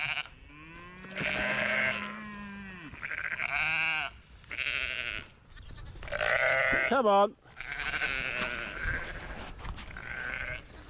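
Several sheep bleat loudly and repeatedly nearby on a farm, their wavering calls overlapping, while a person speaks briefly between them.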